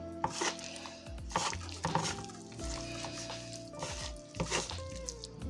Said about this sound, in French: il n'y a plus qu'à remuer tout avec des mains propres